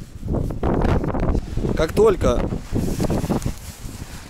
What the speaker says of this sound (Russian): просто ветер сильно дует